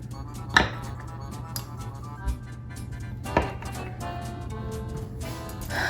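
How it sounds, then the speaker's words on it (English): A knife cuts chocolate peanut butter scone dough into wedges on a board, giving three or four soft, dull chops spaced about a second apart over a quiet low hum, close and faint. "we're gonna cut it like a pizza into 8 wedges"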